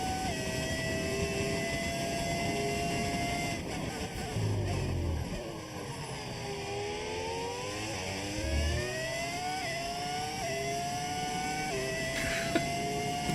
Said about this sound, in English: Why the cars sound different? It's a V10 audio mod. With the V10 engine.